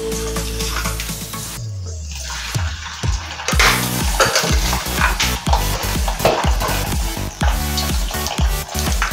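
Boiled sausage pieces drop into hot oil in a kadai and fry with a loud, crackling sizzle, broken by scraping and stirring clatter of a utensil against the pan.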